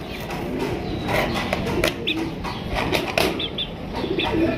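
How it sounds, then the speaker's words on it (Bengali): A pair of tennis pigeons flapping their wings and cooing close by, with repeated wing bursts and soft coos over a busy background. "বন্ধুরা, এখানে রয়েছে চমৎকার একজোড়া টেনিস কবুতর।"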